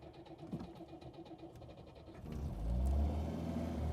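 A car engine cranks and fires up, then settles into a loud, steady low rumbling idle that fills the second half.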